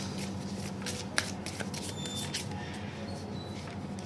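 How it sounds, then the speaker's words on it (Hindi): Tarot cards are shuffled by hand in quick riffling bursts and soft papery slaps, close and fairly quiet, with no voice heard. "Okay, I will shuffle again."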